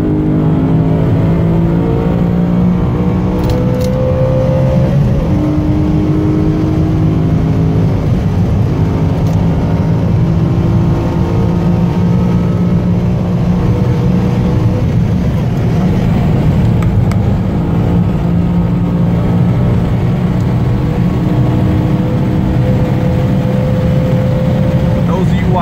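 A BMW M3 on a Nurburgring lap heard from inside, its engine droning loud and steady with rising and falling revs through upshifts and downshifts, while a passenger talks over it.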